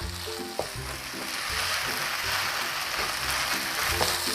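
Glass noodles with spring onions are stir-fried in a pan, giving a continuous loud sizzle with scraping and tossing clatter from stirring. No voices are heard.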